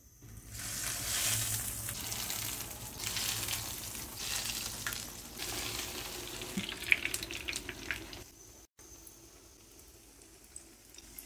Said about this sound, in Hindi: अब हम कबाब को फ्राई करेंगे।